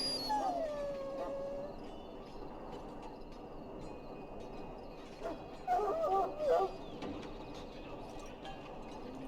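A dog penned in a game kennel in Dragon Age whimpers and gives a couple of short howling cries, first a drawn-out wail and later a cluster of yelping whines, over a steady ambient background.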